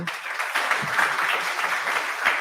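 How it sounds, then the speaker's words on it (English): At a startup pitch event, a crowd claps for the MC, a brief but full burst of many hands clapping, close and steady for a couple of seconds. "Give applause for the MC."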